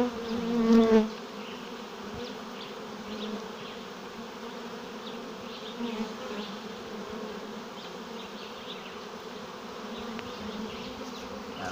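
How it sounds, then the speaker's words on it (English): A dense honeybee swarm moving into a swarm trap buzzes continuously, a steady droning hum close by, with a brief louder burst at the very beginning. "Still a lot of bees in the air"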